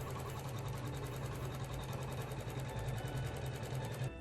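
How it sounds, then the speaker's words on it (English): A sewing machine stitching around the edges of stocking fabric pieces, a continuous fast rhythmic needle hum and clatter running steadily and close, with no voices. "I take the materials for the stockings reverse side, stitch it all around the edges."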